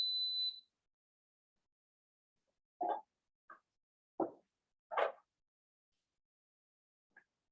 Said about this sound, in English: That beeping was just my rice in the Instapot telling me that